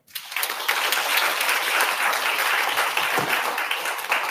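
Applause breaks out for speaker So Tae-young at a Korean community lecture on sustainable development, a dense sustained clapping from a hall audience that starts abruptly and carries evenly throughout without fading.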